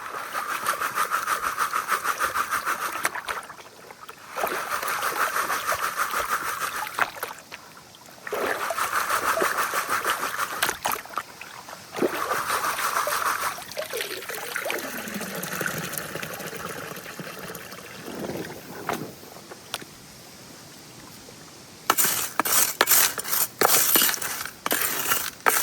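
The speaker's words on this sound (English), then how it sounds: "and then I sift it" Gold pay dirt being sifted in water while panning in Finnmark, Norway: repeated bursts of sloshing, trickling water and gritty rattling of stones and gravel in a pan, with brief pauses between shakes and a sharper clattering flurry near the end.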